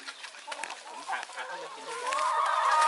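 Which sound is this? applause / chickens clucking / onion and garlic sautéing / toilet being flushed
chickens clucking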